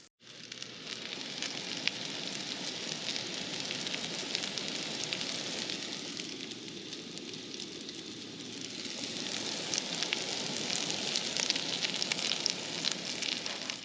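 Polish sausages sizzling over a campfire in a winter forest, a dense steady crackling hiss that holds close and even throughout with no voices.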